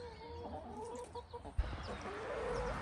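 Backyard chickens cluck nearby in short, irregular bursts, with soft bird calls rising and falling over a low outdoor background and a brief thump partway through.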